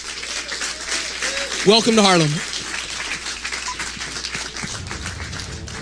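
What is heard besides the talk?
audience applause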